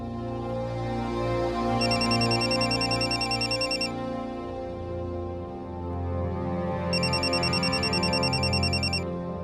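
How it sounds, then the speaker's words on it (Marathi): A mobile phone rings indoors at home in two separate bursts of bright, repeating electronic ringtone, each lasting about two seconds, layered over steady background music. "तुझा फोन वाजतोय"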